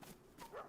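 Dogs in the DayZ video game give a short yipping bark, a quick, fairly faint burst of canine yelps and whines with no talk over it.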